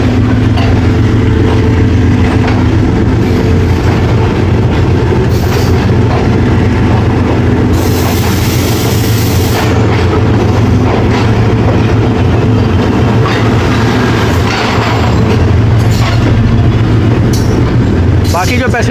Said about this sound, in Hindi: अब कोहाट एक्सप्रेस का डिपार्चर हो रहा है रावलपिंडी से